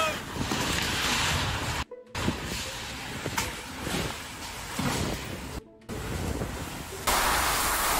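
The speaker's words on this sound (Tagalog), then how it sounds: "sobrang lakas po talaga ng hangin niya mga sangkay" Hurricane Beryl's strong landfall winds roar in a loud, continuous broadband rush with gusty swells, broken by two abrupt brief gaps.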